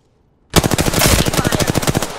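After a moment of silence, loud close-range automatic gunfire from Apex Legends bursts in and runs as one rapid, unbroken stream of shots.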